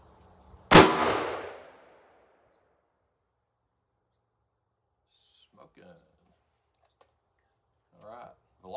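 A single loud .44 Magnum gunshot from a 2.75-inch Smith & Wesson Combat Magnum revolver firing a Hornady 225 grain FTX bullet, a sharp crack with a brief decaying tail, followed by quiet and a few faint voices later.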